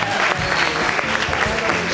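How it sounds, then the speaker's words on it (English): An audience at a comedy event breaks into a short burst of applause, a dense, close clatter of many hands with faint crowd murmur. "Give a round of applause."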